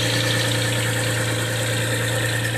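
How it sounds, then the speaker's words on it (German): Car engine idles steadily and close by with a constant low hum, a faint, slight ticking from the hydraulic lifters running underneath. "ein ganz leichtes Klackern, ein ganz leichtes Anzeichen von Hydrostößelklackern"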